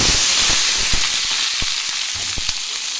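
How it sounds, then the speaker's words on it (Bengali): Steady loud sizzling of potatoes frying in hot oil, with occasional crackles and pops from spattering, continuous throughout with no talking. "এটা এভাবে ভেজে নেবো"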